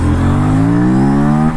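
Aprilia RS457 motorcycle engine revving hard as it accelerates from first into second gear, a loud, close, rising drone with a pitch that climbs steadily, with no talking.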